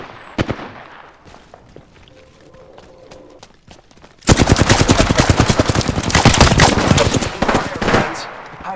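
Gunfire in the video game Apex Legends: a few scattered shots first, then loud, rapid automatic fire that crackles steadily for several seconds.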